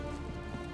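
Rain falls steadily in Hitman 3, a brief, dense patter and hiss on surfaces at moderate volume, with no voices.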